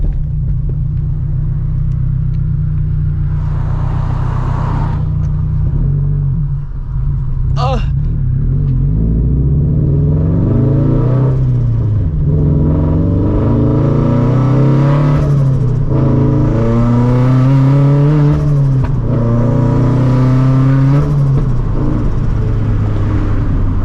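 A 400hp turbocharged FRS pulls hard through the gears from inside the cabin, its engine note rising in repeated sweeping climbs over a heavy constant rumble, with a brief sharp burst partway through and a voice talking over it.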